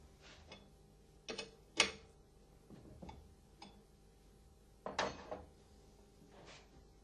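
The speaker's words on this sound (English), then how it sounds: "Fit the backplate, washers and nuts and tighten." Metal hardware clinks and ratchets as nuts and washers are tightened onto the backplate of an Alfa Laval LKH pump, a handful of sharp, separate clicks and scrapes close by in a quiet room.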